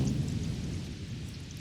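A thunderstorm sound effect rolls as a continuous low rumble with a rainy hiss layered on top, steady and fairly loud for its short length.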